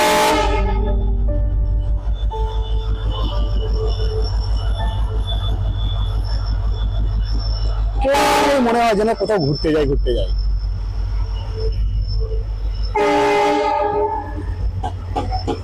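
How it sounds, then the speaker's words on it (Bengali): A train passes close by, its loud steady rumble and clatter of wheels running throughout, with two long horn blasts sounding over it; a person talks over the passing train. "একটি ট্রেন আসছে, দেখুন।"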